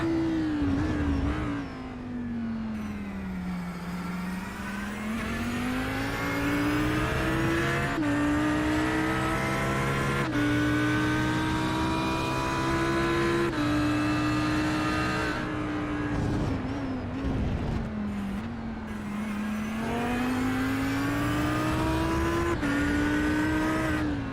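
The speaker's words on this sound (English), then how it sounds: "enjoy the sound of these GT3 cars" GT3 race cars lapping the Jerez de la Frontera circuit during a 90-minute endurance race, one engine loud and close, rising and falling through gear changes, with brief tyre squeal and other cars passing.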